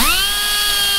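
A small cutting wheel spinning up to a steady high whine as it cuts around the edge of an air filter part held in a vise, for a 2004 Mercury Grand Marquis; loud, close and continuous.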